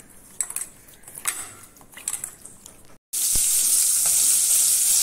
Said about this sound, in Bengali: মাছের পিসগুলোকে এপিট অফিট করে আমি এবারে সুন্দর করে ভেজে নেব